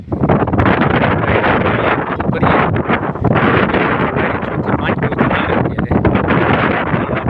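Loud, constant roar of strong wind buffeting the microphone outdoors in a groundnut field in the Gir area, gusting steadily with no pauses.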